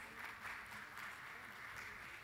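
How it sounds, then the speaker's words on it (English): Steady applause from a conference audience for a panel of speakers, a continuous even wash of clapping at moderate level with no break. "Please, once again, a loud round of applause for all our panelists"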